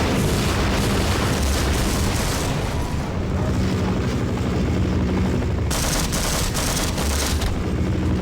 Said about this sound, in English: This is the level with the helicopter.